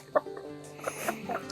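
Backyard homestead chickens cluck in short, close bursts while they peck at food held out to them; a few soft clucks are spread over the moment.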